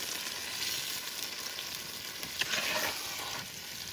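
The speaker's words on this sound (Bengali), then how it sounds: "এই চলে যাচ্ছে এখন হাঁড়িতে মাংস" Mutton for a handi dish sizzles steadily in a clay pot over the fire, with intermittent scraping and stirring strokes rising above the continuous close frying hiss.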